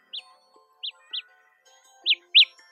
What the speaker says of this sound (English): It says your earbuds will start beeping when you tap start